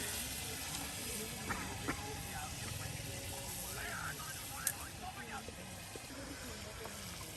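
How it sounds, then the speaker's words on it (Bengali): Masala spices sizzle and fry in a pan while being stirred, a constant soft hiss with small clinks and scrapes, and people talk in the background over it. "এই যে মশলাটা কষিয়ে নেওয়া হচ্ছে"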